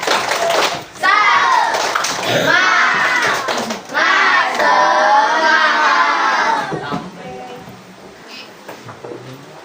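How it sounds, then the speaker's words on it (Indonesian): Schoolchildren in a primary classroom do a loud 'tepuk semangat' cheer, clapping in rhythm while chanting and shouting together, then fading toward the end. "Semangat dulu. Tepuk semangat."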